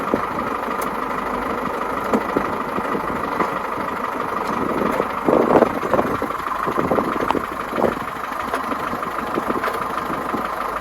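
A tractor engine runs steadily in low gear while pulling rippers through wet soil, a constant mid-pitched drone with occasional louder surges and rattles, close and unbroken.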